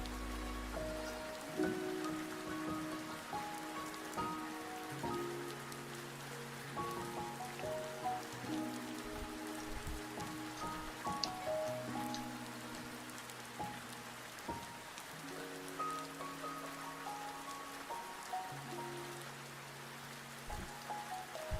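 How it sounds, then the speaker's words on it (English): Steady background rain pattering on a surface, continuous and fairly even, with soft music-like tones running through it and no talking. "It is a dreary, rainy day today, so I have the background rain going"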